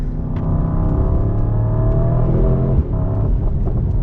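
A Mercedes-AMG GT's turbocharged engine rumbles and revs loudly up close, its deep exhaust note rising and holding steady.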